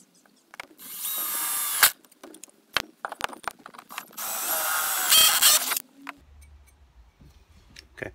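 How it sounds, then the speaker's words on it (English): A power drill bores pilot holes into a Citroen C1 car seat frame in two loud sustained whirring bursts, separated by sharp clicks and clatter, close up with no talking. "just give it a drill, see what happens."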